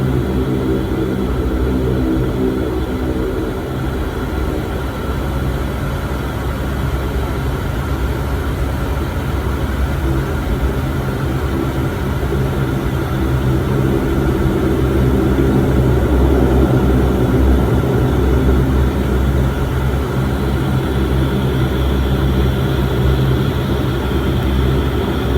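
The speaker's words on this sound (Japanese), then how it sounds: "空港のランウェイ21から離陸します。" Propeller airliner taking off from runway 21 at Minamidaito airport, bound for Kitadaito: a steady, loud engine and propeller drone with broadband rushing noise that holds throughout and swells slightly midway.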